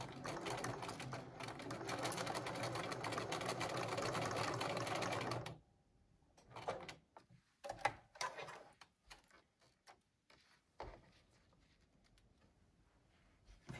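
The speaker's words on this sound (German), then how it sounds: "Man kann auch drüber nähen, aber nicht jede Maschine schafft es" A sewing machine stitches fabric face masks for a hospital in Worms, running in a steady, close, continuous whir for about five seconds before stopping, followed by scattered clicks and rustles of handling.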